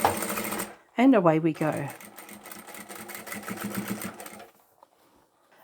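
A sewing machine runs in a steady buzzing burst as it stitches a fabric scarf scrunchie along its seam, with a person speaking briefly before and over the close, fairly loud motor whir, which then stops.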